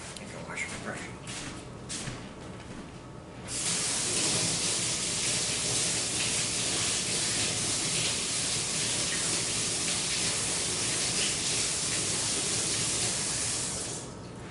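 Running water pours steadily from a tap as a brush is rinsed under it, a loud even rush starting after a few quieter seconds and continuing close and unbroken.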